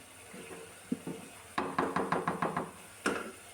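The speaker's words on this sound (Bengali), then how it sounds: "আমি নেড়ে নেব।" A spoon stirs meat and potato curry in a pot, making a quick run of about eight hollow knocks and scrapes against the pot's side, with a few isolated taps before and after over a quiet background.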